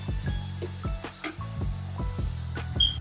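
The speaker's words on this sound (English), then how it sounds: "I'm gonna leave this for a while and let it get sauteed" Tomatoes sautéing in a pot as the base for Jamaican steamed cabbage and saltfish give a steady close sizzle, broken by clinks and scrapes of a spoon stirring against the pot.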